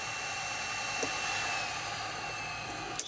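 Hot air blower of a 2-in-1 soldering rework station running at 480 degrees gives a steady, close rushing hiss that holds level throughout, with a couple of faint clicks.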